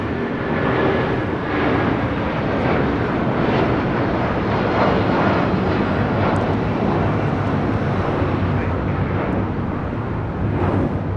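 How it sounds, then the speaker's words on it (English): A United Airlines Boeing 757-200 departs LAX bound for Newark, its jet engines producing a steady, loud, broadband roar that holds throughout without letting up. "This is United Airlines Flight 1625 taking off to Newark on a 757-200"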